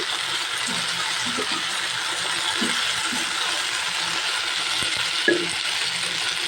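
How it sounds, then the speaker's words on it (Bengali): Flat beans sautéing in a pan with ginger, garlic, spices and three or four green chilies, a constant close sizzle with occasional soft clinks and scrapes of a spoon stirring. "এটাকে আমি ভালো করে কষিয়ে নিচ্ছি।"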